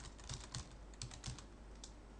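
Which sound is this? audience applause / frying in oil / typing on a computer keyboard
typing on a computer keyboard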